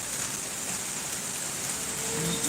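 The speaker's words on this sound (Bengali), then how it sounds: "বৃষ্টি হয়ে যাচ্ছে" Heavy rain pouring steadily, a dense and even hiss of drops on surfaces with no pauses, fairly distant and moderately quiet throughout.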